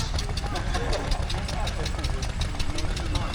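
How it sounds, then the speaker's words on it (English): Scammell Highwayman lorry with a Gardner 120 diesel engine, idling steadily with a low, knocking rumble and regular ticking beats, close by at a tractor festival, with some background chatter. "A Scammell Highwayman with the Gardner 120 diesel engine."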